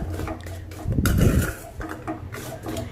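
Fried milagai mittai mixture is tossed and stirred in a hot pan over high flame, with clattering metal scrapes and knocks and one louder, heavier rattle in the middle.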